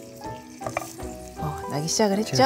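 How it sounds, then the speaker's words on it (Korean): Meat marinated in sesame oil sizzles and fries in a hot pan, a loud steady crackle under a person speaking. "지글지글 소리를 확인을 하시고 고기를 볶아서 건져내야 되거든요"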